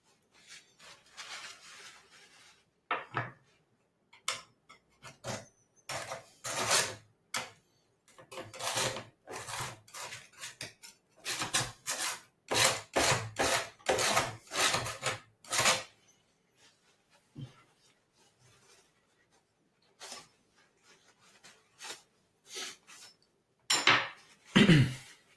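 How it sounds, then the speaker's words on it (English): Oil paint being scraped and wiped off with kitchen roll while working on a deer skull still life: bursts of close rubbing, scraping and crumpling paper, some brief and some sustained, separated by quiet gaps, with no speech. "you can just sort of scrape and wipe"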